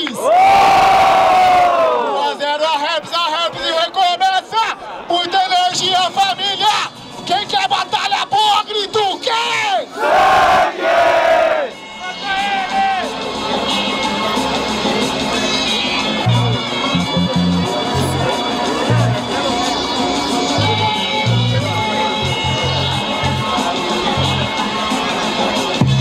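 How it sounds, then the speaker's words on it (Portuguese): Loud crowd at a Brazilian freestyle rap battle semifinal in Rio de Janeiro cheers, roars and shouts continuously, with an emcee's voice shouting over the noise at the start. "Barulho pra cima do Choice! Barulho pra cima do Raps!"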